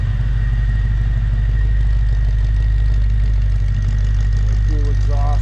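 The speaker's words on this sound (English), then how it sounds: "Take you back so you can hear the exhaust." A 1963 Ford Falcon Futura with dual exhaust idles steadily, a deep, even low rumble held close and loud throughout, with a brief voice-like tonal sweep near the end.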